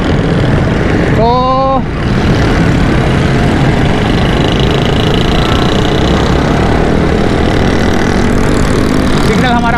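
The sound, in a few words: motorcycles and traffic engines at a Karachi signal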